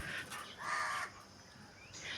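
Several crows caw in bursts, gathered in numbers outdoors, fairly faint and distant, with harsh calls repeating across the stretch and no talk.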